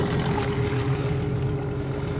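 A motorboat engine drones steadily on a river at dusk, a close, loud, even hum with a low throbbing rumble and no noticeable throttle change over the short stretch.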